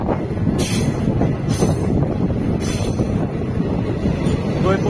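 A DEMU passenger train runs on the Agartala-Sabroom line, heard from inside as a loud, continuous rumble of wheels and carriage with wind rush and a few brief hissing swells.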